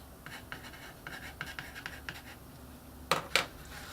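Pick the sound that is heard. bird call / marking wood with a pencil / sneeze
marking wood with a pencil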